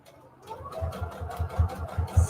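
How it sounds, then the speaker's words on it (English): A sewing machine stitches along the edge of paper junk journal pages, its needle thumping in a steady rapid rhythm that grows louder and quicker as it runs, close and alone. "Sewing right there along the edge."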